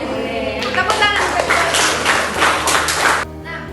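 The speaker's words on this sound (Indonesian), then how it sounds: "Tepuk tangan." A class of students claps hands together in a classroom, a loud burst of steady, dense clapping that starts after some talk, runs about three seconds, then stops abruptly.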